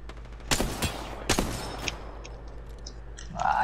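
Scattered gunshots in a multiplayer shooter video game, a few sharp cracks near the start and then fainter distant pops, with light game sounds underneath.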